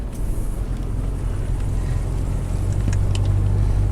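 A car drives along a country road, its steady low engine and tyre rumble continuous and fairly loud throughout, with faint rattles near the end.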